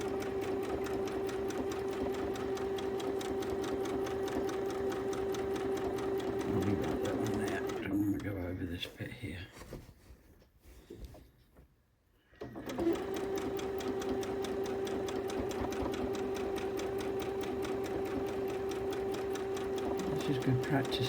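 A sewing machine quilts a storm quilt, its steady close-up stitching hum running for about eight seconds, stopping briefly, then resuming for the rest of the clip.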